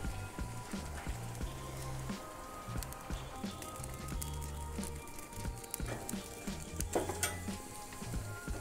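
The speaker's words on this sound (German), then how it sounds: "Das gebe ich jetzt bei höchster Stufe auf meinen Infrarotbrenner und brate es von beiden Seiten kurz an" Steak searing at the highest setting on an infrared grill burner, a steady crackling sizzle with scattered pops and spits, mixed with clatter and background hum.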